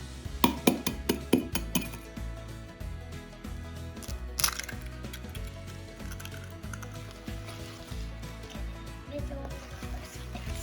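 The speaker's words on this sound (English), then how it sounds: "Now we have to crack the second one." An egg is cracked for lemon cupcake batter. A quick run of sharp, close taps on a bowl rim comes first, then a single crack and a soft wet drop.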